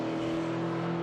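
Race car climbing the hill at Road Atlanta during an SVRA Group 10 vintage race, a steady, loud engine drone with sustained harmonic tones and no break across the short stretch.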